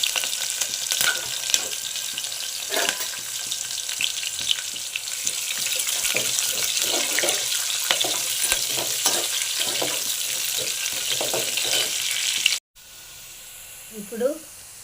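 Chopped onion and curry leaves sizzle and crackle loudly in hot oil in a pan, frying continuously with stirring scrapes, then the sound cuts off abruptly near the end, followed by a brief quiet clatter.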